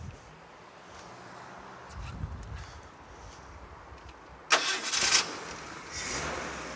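Ford 300 gas engine on a TUG MA-50 airport bag tractor cranking and catching, a short burst of starter and ignition noise after several seconds of quiet outdoor background.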